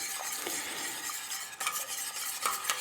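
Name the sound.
whisking ice cream custard mixture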